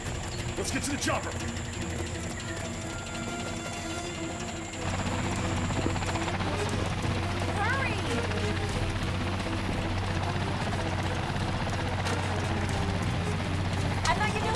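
A helicopter's rotor and engine drone steadily, with mechanical rattling, clicks and shouted voices layered over it.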